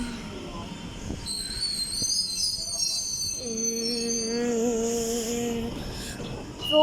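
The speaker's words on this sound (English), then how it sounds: "here's Punchbowl train" A Sydney train pulls into Punchbowl station on the Bankstown line, rumbling in with a high, sustained wheel squeal and whining tones over the rolling noise, heard close and loud with no talk.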